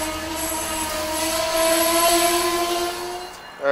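An AEM-7 electric locomotive, number 914, on the Keystone Line passing close by, with a steady rolling rumble and sustained tonal whine that swells, then cuts off abruptly.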